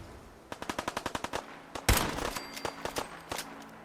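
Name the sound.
bolt action pistol gunfire in Fallout 4 video game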